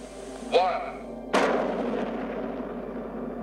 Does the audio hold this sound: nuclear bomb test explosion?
yes